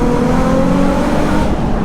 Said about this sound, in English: That's a really, really nice exhaust note from that V6.